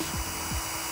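A small power drill whirs steadily as it winds wire, its motor pitch dipping briefly a few times as it spins under light load.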